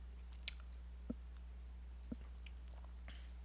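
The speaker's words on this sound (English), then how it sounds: "Keep typing." A computer keyboard gives a few sparse, isolated clicks, faint and irregularly spaced in a quiet room with a low background hum.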